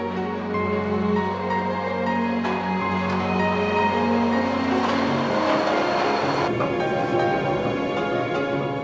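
A train climbs from Zermatt to Gornergrat in Switzerland, heard from inside as a loud, continuous rumble with a steady motor whine and rising wheel and track noise, no voices.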